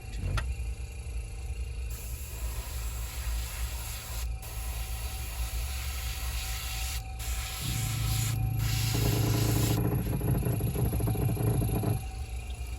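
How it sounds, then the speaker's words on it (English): A small air compressor runs steadily nearby, a continuous mechanical hum and rattle with a few brief interruptions and a louder, rougher vibrating stretch toward the end. "that little air compressor likes to crawl around"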